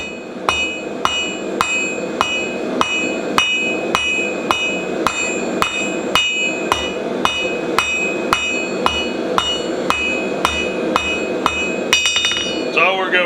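A French style hammer strikes hot steel at the anvil, forging a point on a nail knife in a steady, loud, evenly spaced series of about twenty ringing blows, with no talk.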